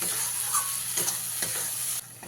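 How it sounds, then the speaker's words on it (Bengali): Spices fry with tomato paste in a pan, a constant close hiss and sizzle broken by a few spoon scrapes and stirring knocks before it drops off abruptly. "তাই খুব ভালো করে টমেটোর পেস্টটা দিয়ে কষিয়ে নিতে হবে।"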